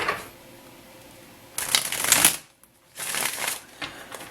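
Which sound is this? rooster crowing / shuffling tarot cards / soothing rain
shuffling tarot cards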